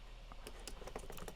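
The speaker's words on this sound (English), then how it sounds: "If you hear extra noises, it's probably me hitting the keys on accident" Keys on a computer keyboard clack in quick irregular taps at a home studio desk, faint and close, with no talking.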